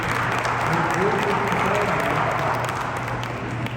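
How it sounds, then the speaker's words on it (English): Steady, dense applause from an audience at a community scholarship event, a continuous even wash of clapping throughout with a low hum underneath. "So a big round of applause for that"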